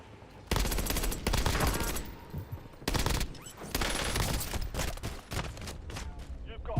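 Call of Duty Black Ops 6 multiplayer gunfire, rapid automatic bursts in several loud volleys with pauses between, while a person talks over the shooting.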